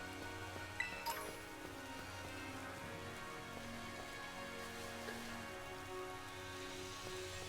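Rain patters steadily and faintly in the Pokémon Scarlet video game, with a soft continuous hiss and a low musical drone beneath it.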